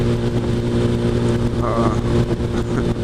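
A 2007 Suzuki Hayabusa motorcycle engine idles loud and close, with a steady throbbing rumble and slight revs, and a voice is faintly heard under it.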